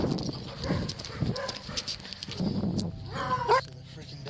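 Several dogs appear at night near a cemetery, with yelps and barks mixed with scuffling movement and a sharp whine near the end. Someone speaks over part of it.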